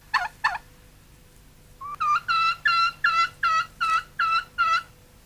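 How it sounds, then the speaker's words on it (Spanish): A wild turkey gobbles nearby in the Mexican mountains, two short calls followed by a rapid rhythmic series of loud gobbling notes, clear against a quiet background. "la mayor aportación de la avifauna mexicana al mundo es el pavo"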